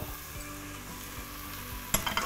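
Food frying in a pan while cooking aubergine moussaka and red lentil soup, a steady close sizzle with low stirring scrapes and a brief clatter near the end.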